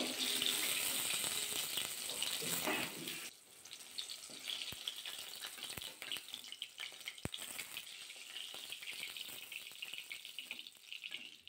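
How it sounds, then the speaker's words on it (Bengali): Rui fish pieces frying lightly in oil in a pan, a steady hiss and sizzle that dominates the start and then settles into a softer crackle with a few sharp pops and clicks. "আর এক দিকটা কিন্তু মাছের হালকা করে ভাজা করে নেব"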